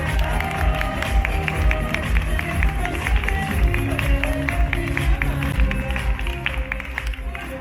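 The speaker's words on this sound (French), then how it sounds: "Je vous demande un tonnerre d'applaudissements, s'il vous plaît, pour Tornado." A show crowd at Ok Corral claps and cheers steadily for the horse Tornado during a Zorro performance, with a rapid rhythmic patter running through the applause and music or voices underneath.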